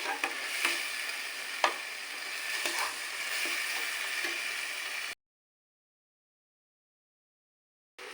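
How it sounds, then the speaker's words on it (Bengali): Ground ginger paste sautéing in a pan, a steady close sizzle with scraping stir strokes, cutting off abruptly into silence partway through. "আর এখানে আমার বেটে রাখা আদা আছে, দিয়ে দিলাম। এটাকে আমি ভালো করে কষিয়ে নেব।"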